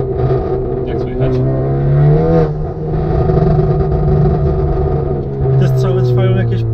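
A tuned Honda with a straight-through downpipe and a crackle tune runs loudly close by, revving up and down with sharp exhaust crackles, while someone talks over it.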